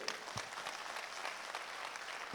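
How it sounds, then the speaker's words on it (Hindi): Audience applause at a network marketing seminar, a steady wash of clapping from a crowd, moderately distant and even throughout with no talk over it. "जोरदार ताली होनी चाहिए।"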